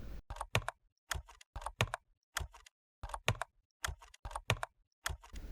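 Keys clack on a computer keyboard while code is written in VS Code, quiet and close, in short irregular bursts of a few keystrokes separated by brief pauses.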